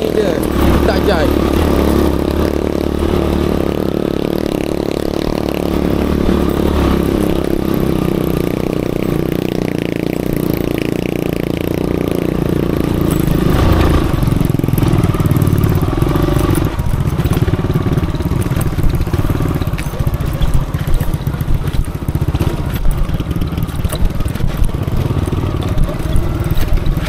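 An EF5 motorcycle engine runs steadily while riding along a road under construction near Pos Balar, a loud continuous mid-pitched drone with some clatter, and a person talks over it.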